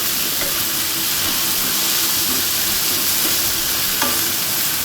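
Coriander powder is stirred into a banana flower egg roast in a hot pan, a continuous loud sizzle and hiss with occasional scraping stirs of the spoon.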